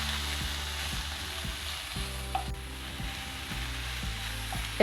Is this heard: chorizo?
yes